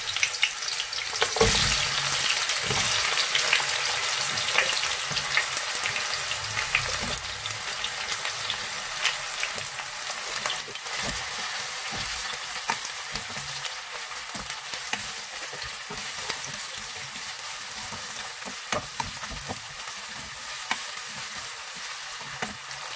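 Onions sizzle and crackle steadily in hot oil for lamb chops masala, a continuous frying hiss with occasional stirring clatter, no talking.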